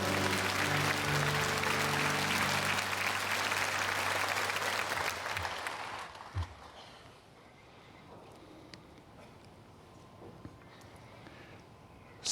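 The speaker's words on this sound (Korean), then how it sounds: "주님께 영광의 박수 올려드립니다." A Korean church congregation at Sunday worship claps loudly and steadily in praise, with sustained music underneath. The applause then fades out to a quieter room with a few scattered noises.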